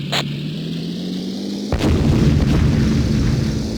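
A torpedo dropped like a bomb explodes in the World War II combat game Beyond Pearl Harbor: a sudden booming blast that rolls into a long rumbling tail after a steady engine drone.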